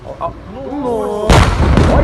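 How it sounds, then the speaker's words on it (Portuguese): Truck exploding at a fuel station, heard from a played news video: a wavering voice-like rise gives way to a sudden loud, rumbling blast that roars on to the end. "Caminhão incendiando, depois já veio a explosão do posto."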